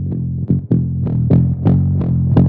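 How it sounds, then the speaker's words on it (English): Heavily distorted deep minimal house bass, a low layer stacked with a grittier mid-range layer driven through a Decapitator saturation plugin, pulsing in short loud hits about three times a second, dense and close with no talk. "I heavily distorted it."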